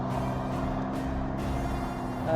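A car passes at a blind road crossing, its steady engine and tyre rumble close and fairly loud throughout, swelling slightly at the end.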